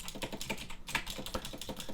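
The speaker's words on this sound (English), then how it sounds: "This is a Razer keyboard with Razer green switches, so they're really clicky sounding switches. You can definitely hear it." Rapid clicky typing on a Razer keyboard with Razer green switches, close up and fairly quiet, a dense stream of sharp key clicks with a brief pause partway through.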